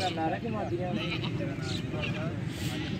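Beetal goats bleat faintly in the background at a goat market in Faisalabad while people talk nearby, the calls wavering and overlapping amid general crowd noise.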